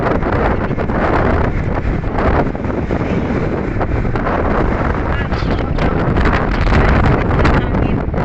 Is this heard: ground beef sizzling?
no